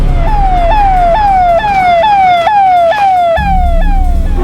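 Wailing ambulance siren, loud and close, sweeping up and down in a steady repeating yelp with road traffic rumbling underneath.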